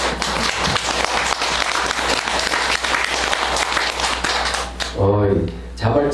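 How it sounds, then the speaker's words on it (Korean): Spontaneous applause from a seated audience at a Buddhist dharma talk in a temple, dense steady clapping for several seconds before a voice resumes speaking over the fading claps. "자발적인 박수는 좋은 거예요."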